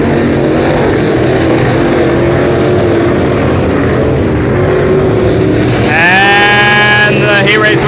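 Pro Late Model race cars thunder around Brownstown Speedway during a heat race, a loud, steady engine roar that rises in pitch near the end as cars sweep past, with an announcer talking over it.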